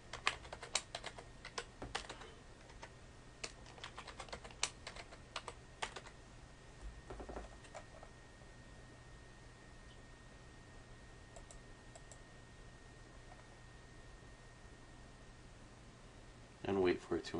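Typing on a computer keyboard while entering a root password during a CentOS 7 installation, with a burst of quick, faint key clicks over the first few seconds, then near silence, and a brief rustle at the end.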